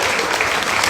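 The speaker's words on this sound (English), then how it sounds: "Keep the applause going." A crowd claps in a short, dense burst for a young singer at a Women's Institute Armistice centenary concert in a cathedral.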